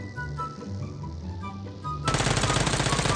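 Sustained automatic AK rifle fire in the Peacekeeper Elite battle royale game bursts in loudly after a stretch of quieter game ambience, a dense rapid rattle of shots running to the end.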